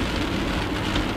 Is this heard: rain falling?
yes